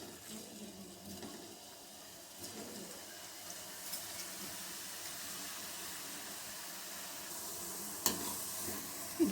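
Bread gulab jamun balls fry in hot oil over a medium flame, giving a steady, soft, continuous sizzle with occasional faint bubbling pops and no talking.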